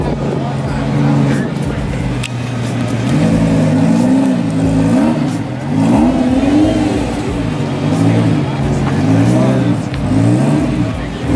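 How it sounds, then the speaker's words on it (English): A Lamborghini driving past at a Titan Motorsports open house, its engine revving and rising and falling in pitch as it moves through, loud and close with people talking over it. "Another Lamborghini's coming over here."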